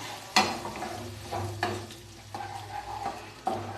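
Spice masala with a little water sizzles in a pan as pasta sauce is cooked, with a spoon scraping and stirring in several distinct strokes over a steady close frying hiss.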